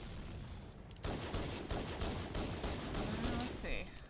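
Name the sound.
gunfire in a video game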